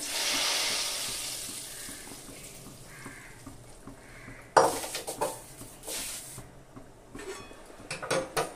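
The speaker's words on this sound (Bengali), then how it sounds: "এবার এই ফোড়নটা আমি ডালের ভিতর দিয়ে দেব।" Hot spiced tempering (phoron) is poured into a pot of mango dal and hits it with a sudden loud, crackling sizzle, followed by clinks of utensils and spluttering that gradually settles, with no talking.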